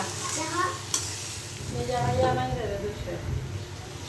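Meat curry bubbles and sizzles in a pan in a village kitchen while a spoon stirs it steadily, with a sharp clink near the start and voices talking faintly underneath.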